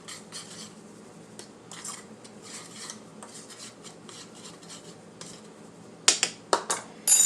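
A spoon scrapes and clinks against a bowl while stirring seasoned flour mixed with paprika, a run of soft gritty strokes followed by several sharper, louder knocks near the end.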